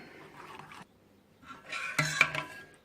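Spoonfuls of hot meat soup are poured into a yogurt and egg mixture in a bowl. Soft liquid pouring is followed by close metallic spoon scrapes and clinks against the dish.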